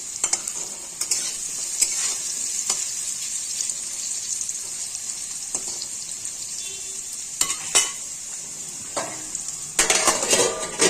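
A potato, soybean and pointed gourd curry cooking in a pan, with a soft steady sizzle under occasional scrapes and clinks of a utensil against the pan, close by.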